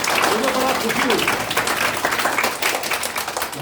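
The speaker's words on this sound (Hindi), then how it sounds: "एक बार ताली जोर से आप स्वयं अपने लिए बजाइए।" An audience at a school parent-teacher meeting and student honour ceremony claps loudly and steadily, a dense sustained wash of applause throughout.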